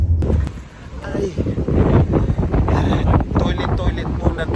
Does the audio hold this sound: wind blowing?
yes